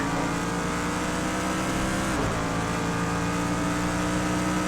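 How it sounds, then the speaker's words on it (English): Touring race cars from Project Cars 2 at the Fuji circuit roar past in a dense engine drone, with a brief doppler swell of a car passing near the middle; no speech. "These touring cars are causing carnage."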